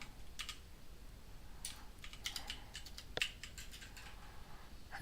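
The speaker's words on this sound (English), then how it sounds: "Okay, I'll just type it here." A computer keyboard clatters as Rust code is typed, with irregular runs of sharp, close key clicks, one louder tap near the end, and a faint background hiss.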